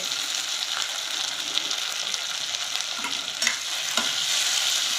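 Jeet Wada coated in spice masala frying in hot oil, a steady close crackling sizzle that holds through the clip with a few sharper pops and spatters, no voices.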